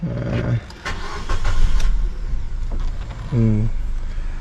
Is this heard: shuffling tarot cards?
no